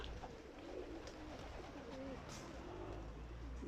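Racing pigeons cooing softly in a loft area, low repeated coos under a steady background hum, faint and fairly close.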